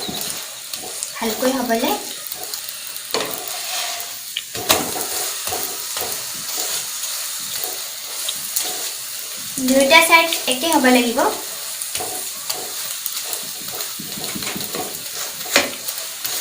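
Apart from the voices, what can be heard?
aloo paratha frying in mustard oil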